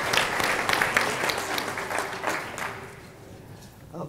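Audience applause fills a conference hall at a financial services braintrust session, a dense steady clatter of many hands that gradually fades toward the end.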